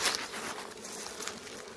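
Honeybees loaded with yellow pollen hum around a low-frame hive during willow forage, a soft, continuous buzzing that stays fairly faint and steady throughout.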